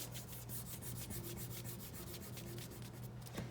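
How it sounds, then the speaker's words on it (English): A fingertip rubbing pencil shading on drawing paper to blend it, a soft, steady, even rasp of repeated strokes in one direction, quiet and close with no voices. "now I'm gonna take my finger, and it's very important you rub in the same direction that we drew"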